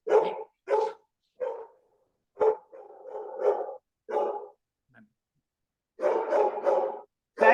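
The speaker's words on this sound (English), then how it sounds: "Is that your dog?" A big dog barks repeatedly in loud, clipped bursts, several single barks followed by a rapid cluster of barks near the end, fairly close with quiet gaps between.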